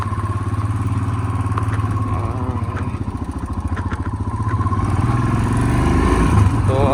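A motorcycle engine running while being ridden, with a steady close-up putter and clatter that grows louder toward the end.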